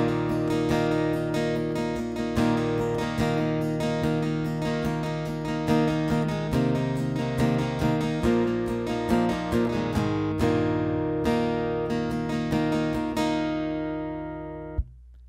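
Acoustic guitar strums steady chords through verse 3 of a song, with regular rhythmic strokes that ring full and close, then stop on a final strum and fall silent.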